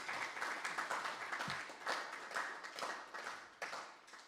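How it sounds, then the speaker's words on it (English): An audience at a Nigeria Labour Party UK inauguration ceremony breaks into scattered hand clapping that rises and falls irregularly over a few seconds. The clapping sounds moderately distant and carries no speech. "Can we do a clap for all these people?"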